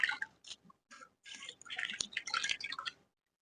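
Water trickles and drips during a patient's bed bath, quiet intermittent splashes and patters in short bursts that stop at the end, with no one speaking.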